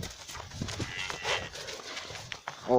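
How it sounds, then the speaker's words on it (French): White cows and oxen, excited while running, low repeatedly on a farm. The moos come at middle distance over light outdoor background noise, with no talking. "On va courir un peu pour que les bœufs et les vaches, les vaches viennent courir aussi."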